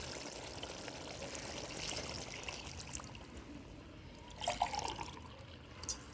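Water pours steadily into a clay pot for chicken biryani with a soft, splashy rush, brief gurgles rising partway through, no voices.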